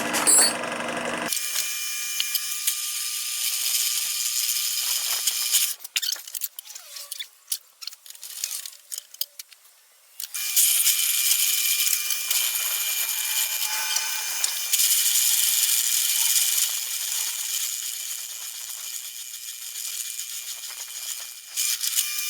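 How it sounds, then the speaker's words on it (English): A drill bit bores out a small hole in a VW air shock for a Beetle or Type 3 Fastback, with a steady whirring grind, a broken, stuttering stretch in the middle, then continuous drilling again. "I grabbed 3 different size drill bits for this task so we can incrementally step it up."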